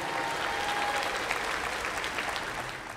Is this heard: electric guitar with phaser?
no